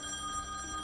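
A telephone rings in The Wolf Among Us, a brief electronic tone held steadily for under a second against a faint background hum.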